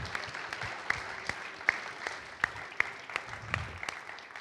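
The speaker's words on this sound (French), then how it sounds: "Regarde, le public s'applaudit." A studio audience applauds during a comedy talk show, steady clapping with sharper individual claps standing out, moderately loud and continuous without speech.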